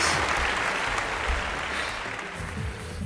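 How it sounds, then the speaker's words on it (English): Children and families at a summer reading balloon magic show in a public library give themselves a round of applause, dense steady clapping and crowd noise throughout. "Give yourselves a big round of applause!"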